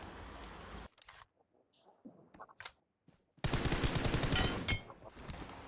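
Gunfire in a mobile battle royale game played on an iPhone 15, with a loud burst of shots at the start, scattered single cracks through a quiet stretch, then a long dense burst of rapid fire at the end.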